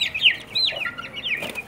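Young chicks of a fighting breed squabble at close range, giving loud high chirping and clucking calls in quick overlapping bursts, with no talk.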